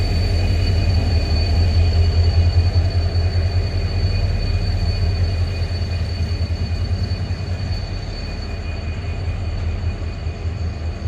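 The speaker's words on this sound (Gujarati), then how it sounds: "ડીઝલ ટ્રેન છે" A diesel passenger train on the Bhavnagar–Veraval line in Gujarat rumbles steadily past, a loud continuous low engine drone with rattling wagons that eases off slightly toward the end.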